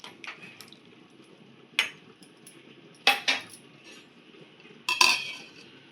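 Vegetables, drumstick pieces and bottle gourd, stirred in a cooking pot of Andhra lentil soup, giving a few sharp clinks and scrapes of a spoon against the pot at irregular intervals, close and fairly quiet with no talking.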